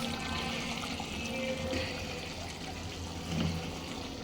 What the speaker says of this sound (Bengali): পানি ভরতে দিছি, দেখেন পানি